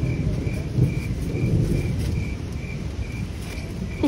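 Steady rain falls in a broad, continuous hiss with low rumbling underneath, while a faint high insect-like chirp pulses at regular intervals.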